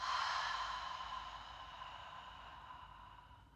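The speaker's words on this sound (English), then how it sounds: "big breath in, open mouth, exhale" A single long, deep exhale through an open mouth during a yoga flow, a soft breathy sigh that starts strong and slowly fades over several seconds, close to the microphone with no talking.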